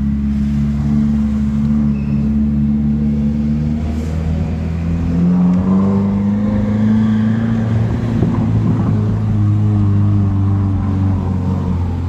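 Car engines idle and rev in a parking garage during a night car meet, a loud, steady low drone with a slow rise in pitch as one engine revs up, echoing in the enclosed space.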